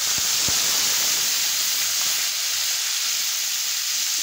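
Lemon juice poured into a hot pan of browned vermicelli for lemon semiya sets off a steady, bright sizzling hiss that carries on evenly with a couple of faint knocks near the start.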